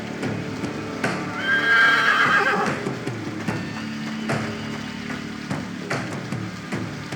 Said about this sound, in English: It's just the horses.